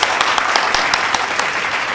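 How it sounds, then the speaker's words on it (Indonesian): Applause during an online Christmas Sunday school program: a short burst of steady, fairly loud clapping with a few sharper individual claps standing out, no talking. "Tepuk tangan dulu dong buat Tuhan Yesus."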